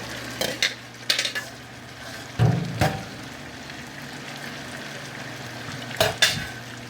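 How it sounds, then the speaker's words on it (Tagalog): Pork sisig is stirred in a cooking pan over a low background sizzle, with several distinct scraping clanks of a utensil against the metal at irregular intervals. "Halo-haloin na natin hanggang siya ay maluto, no?"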